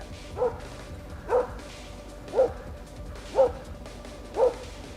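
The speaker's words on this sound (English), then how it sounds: "before pouncing on the stray dog, making it whimper and bark in pain" A stray dog yelps and whimpers in pain as a wolf attacks it, five sharp cries evenly spaced about a second apart, fairly close against a quiet forest background.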